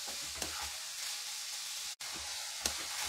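Vegetables for fried rice sizzle in a pan over a high flame, a steady close hiss with a couple of brief clatters and a short break partway through.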